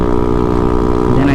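A Honda Ruckus scooter engine with an aftermarket exhaust idles close by, a loud steady buzzing drone with a rough low rumble, continuous for the whole short stretch.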